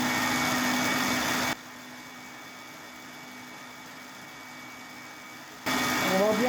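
An electric mixer whips egg whites for a chocolate mousse, a loud steady whir that runs for about a second and a half, drops away to quiet room noise, then starts up again near the end.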